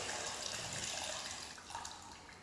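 Water poured into a bowl to wash rice for steamed rice, a faint close splashing trickle that tapers off, no voices.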